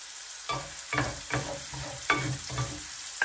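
Garlic frying in a pan for pork blood stew, sizzling steadily while a utensil stirs it in about six rhythmic strokes, close and clear with no talking.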